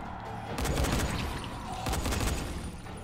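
Gunfire in the zombie game Dying Light: two loud bursts of rapid automatic shots, close and sharp, separated by a short lull, with ammunition being spent freely.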